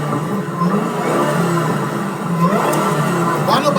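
A supercharged Ford Mustang engine revs steadily with a rising whine, loud and close, with faint voices beneath.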